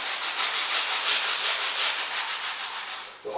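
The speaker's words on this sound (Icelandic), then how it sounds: "og slípa neðri brúnina." Sandpaper rubs along the lower edge of a linoleum block in quick, even back-and-forth strokes, close and continuous, with a short pause at the end.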